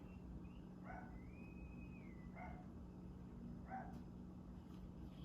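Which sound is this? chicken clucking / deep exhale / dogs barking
dogs barking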